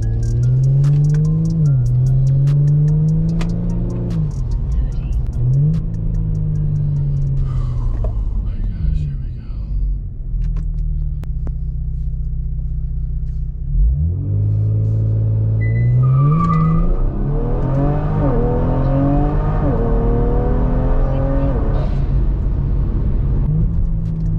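A modified Kia Stinger running E30 fuel accelerates hard, its engine climbing loudly through the revs in repeated pulls with shifts and tire noise, while people talk over it throughout.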